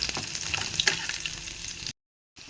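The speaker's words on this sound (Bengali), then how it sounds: "এই দেখো রসুনটি ভাজা হয়ে গেছে।" Garlic fries in a pan with mustard, giving a steady close crackling sizzle with a few sharp pops, then a brief silence before the sizzle returns.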